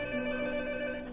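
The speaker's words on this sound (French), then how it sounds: "c'est le téléphone sur une autre ligne." A telephone rings on another line during a call, a faint, steady electronic ring tone held without a break and heard alone.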